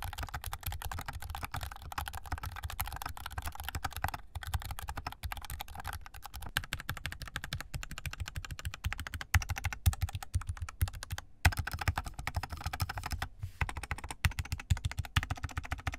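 Continuous mechanical keyboard typing on Gateron yellow switches with lubed stabilizers, foam and a tape-modded PCB, rapid clacking keystrokes in a steady stream with brief pauses, close and fairly loud, no voices.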